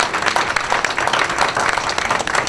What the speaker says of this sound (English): Let's give a round of applause for all of their diligent work.